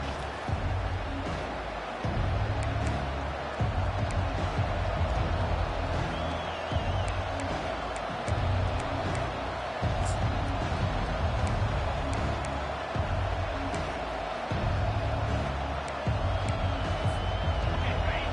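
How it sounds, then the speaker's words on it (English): A football stadium crowd giving a welcome to the visiting team, a dense roaring wash of cheering and whoops held at a steady level throughout, heard from within the stands. "This crowd bringing an ear-splitting welcome to their visitors"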